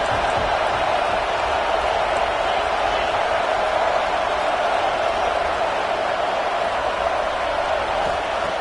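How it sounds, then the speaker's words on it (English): A stadium crowd at a college football game roars steadily as fans try to lift the defense in the red zone, a dense, continuous wall of noise held at a constant level throughout. "the crowd coming to life here, trying to help this defense down in the red zone"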